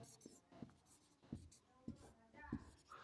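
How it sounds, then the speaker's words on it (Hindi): A pen writes on paper during a class 10 maths lesson, with faint scratching and a few soft taps against the desk, quiet and close, with no clear talking. "प्रश्न से लिखते हैं।"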